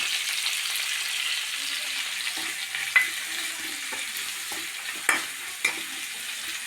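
Curry leaves, five green chilies and a piece of ginger frying in a pan of oil, a steady close sizzle with occasional soft stirring clicks and spoon taps, no voices.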